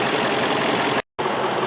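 Car engine idling roughly with an intermittent random-cylinder misfire, a loud, close, steady drone broken by one brief dropout midway, with no voices.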